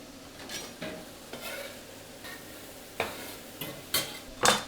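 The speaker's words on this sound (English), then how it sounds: "I can smell these mushrooms, so they need a stir." Mushrooms frying in a pan for a spaghetti mushroom bolognese ragu, a soft sizzle under a series of scraping stirs that grow louder and sharper toward the end.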